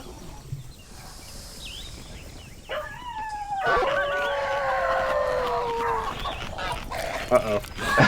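Creatures in the game CHKN fight, a chicken dog among them: howling, yelping calls and squawks overlapping over several seconds, growing louder toward the end, with a voice talking faintly underneath.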